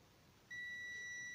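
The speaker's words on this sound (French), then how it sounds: "comme vous entendez le multimètre sonne" ANENG Q1 digital multimeter in continuity mode gives a steady, clean electronic beep that starts suddenly after a moment of quiet and holds on, fairly faint and alone.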